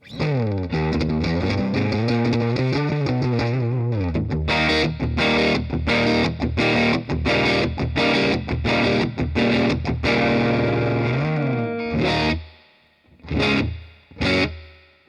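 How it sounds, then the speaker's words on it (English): A distorted electric guitar through a Dimehead NAM player pedal's convolution reverb preset plays sustained chords, then choppy rhythmic strums, ending with a few isolated hits that ring out in a spacious reverb tail. "there you already can hear one of the key features of the NAMplayer. It has the convolution reverb on there."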